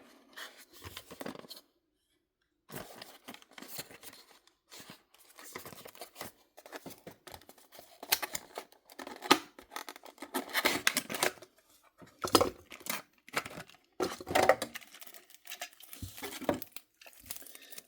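Plastic packaging crinkles, rustles and snaps in close, intermittent bursts with brief pauses while a 1/64 scale diecast Porsche model car is unboxed; no voices.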